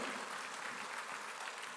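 A church congregation claps steadily throughout a sermon, a dense, even wash of applause with no voices standing out.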